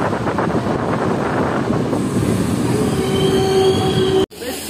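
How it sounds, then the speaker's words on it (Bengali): Tamralipta Express from Digha pulling into platform 7 at Santragachi station, a loud, close rumble of rail cars with high wheel squeal building as it slows, then an abrupt cut near the end. "সাঁতরাগাছি 7 নম্বর প্ল্যাটফর্মে আমাদের ট্রেন এসে লেগেছে"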